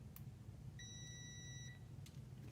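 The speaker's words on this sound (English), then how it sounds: "every time these two leads touch, it's going to make a sound" A multimeter in continuity mode beeps once as its two leads touch, checking a neutral or reverse safety switch on a Mazda RX-8 or Miata. The steady electronic tone lasts about a second over a low background hum.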